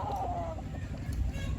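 Black Henny gamefowl chickens cluck softly and steadily on a game farm, a dense low bed of fowl noise running throughout with a brief higher call near the start and no clear talk.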